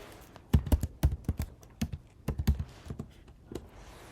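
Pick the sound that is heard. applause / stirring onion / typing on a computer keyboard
typing on a computer keyboard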